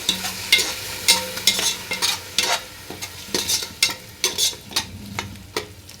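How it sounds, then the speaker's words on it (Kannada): Ground masala of ginger, garlic, green chilli, coriander and mint is stirred into chicken biryani in a hot pan, a rhythmic scraping of spoon against metal over a steady sizzle, alone and close. "ಇದನ್ನ ಇವಾಗ ಹಾಕಿ ಮಿಕ್ಸ್ ಮಾಡಬೇಕು"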